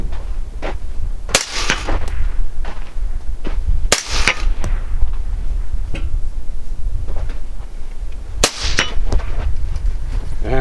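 Three suppressed rifle shots crack out at spaced intervals, each a sharp loud report with a short tail, against low background rumble.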